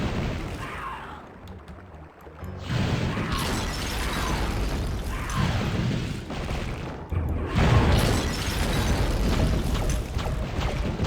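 Ice shards shatter in Hexen: Beyond Heretic, heard as a series of loud, crunchy bursts and booming impacts in repeated waves over a continuous rumbling game background, with no speech.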